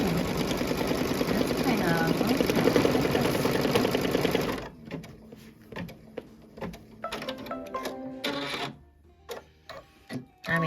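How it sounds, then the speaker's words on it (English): A home embroidery machine stitches a placement line in red thread for a Kimberbell gumball machine design, running as a loud continuous rapid whirr for several seconds, then giving way to quieter intermittent clicks and short bursts of stitching. "I am now going to do my placement line for the bottom of"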